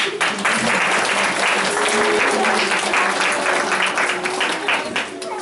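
An audience at a first-grade pledge ceremony in a primary school in Palikije claps steadily in a dense, sustained round of applause, with a voice talking over it.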